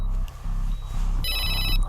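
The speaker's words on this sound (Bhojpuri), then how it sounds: "बड़का साहब के फोन है।" A telephone rings in a scene from a Bhojpuri action movie: a short, bright electronic ring burst rises over a low background rumble.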